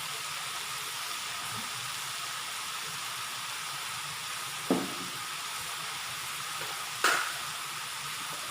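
Chicken sizzles steadily in a pan with dark soy sauce as it is stirred, the constant frying hiss broken by two sharp utensil clacks against the pan.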